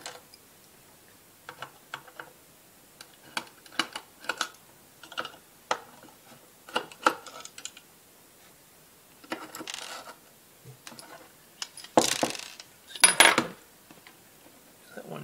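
Screws being removed from a battery monitor casing: a sequence of small, sharp clicks, ticks and light metallic taps, spaced irregularly and close by, with a few louder clattering handling bursts near the end.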